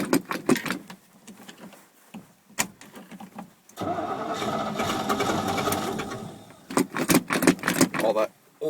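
A 1979 Chevy 350 engine cranks on a cold start, flooded on old gas: a loud, sustained whirring crank of several seconds, set between bursts of nearby voices and clatter.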